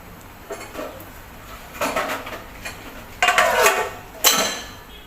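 A lid set onto a pot of simmering rajma masala in a home kitchen, giving a few metallic clanks and clinks in separate bursts, close and fairly clear against a quiet background.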